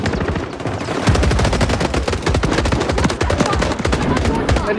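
Dense, continuous automatic gunfire in the video game Warzone Rebirth Resurgence, a loud rapid stream of shots hitting an enemy with no pause throughout.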